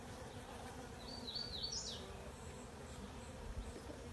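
Honey bees buzz steadily around an open hive during a nuc inspection, a faint, continuous drone with one brief closer buzz passing by.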